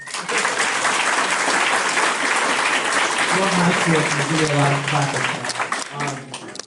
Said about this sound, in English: Yeah, give me a round of applause.